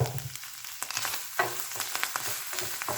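A ham and mushroom puff pastry filling, seasoned with pepper, garlic and salt, sizzles softly in a pan while a utensil stirs it in irregular scraping strokes, close and moderately quiet with no talking.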